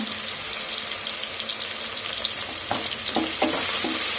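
Oil sizzling for a tempering with asafoetida, ahead of moong dal for hesarbele bath, a steady frying hiss with a few stirring scrapes and clicks toward the end, no speech.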